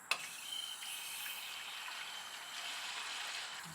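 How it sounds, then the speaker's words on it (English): Water rushes steadily through a brass hose reel swivel upgraded to a Super Swivel, a soft continuous hiss of flow with a brief click at the start and no voices. "Probably hear the water flowing."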